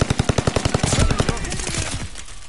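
Rapid automatic gunfire in COD Vanguard Zombies, a loud, evenly spaced burst of about a dozen shots that blurs into a denser volley before trailing off into echoing noise.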